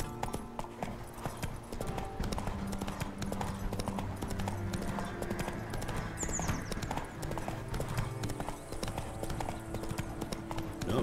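Horse hooves clip-clopping at a steady trot in the video game The Witcher 3, continuous and fairly close among game ambience.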